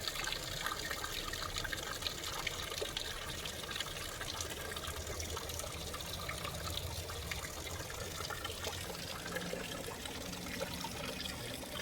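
Water from a small backyard pond waterfall splashes and trickles in a steady, unbroken wash, close and moderately loud with no voices.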